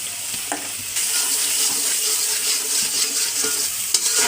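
Spice paste with chili powder, turmeric and salt frying in a pan, loud dense sizzling with occasional scraping stirs, close and continuous.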